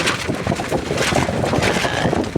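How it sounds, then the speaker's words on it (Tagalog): Strong wind at sea aboard a small boat, a loud roaring rush with gusty whistling tones buffeting the microphone, constant and close, with no voices. "Maingay ang hangin, sumisipol."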